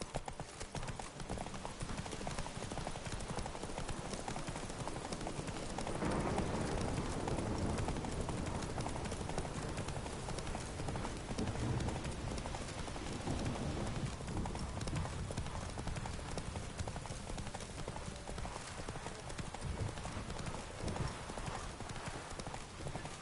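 Roach the horse gallops in The Witcher 3, hooves drumming in a continuous rapid clip-clop for over twenty seconds, close and steady, with occasional faint speech underneath.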